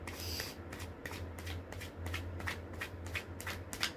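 Rapid riffling tarot card shuffles, a series of crisp papery bursts repeating in quick rhythm, close up, with a low steady hum beneath.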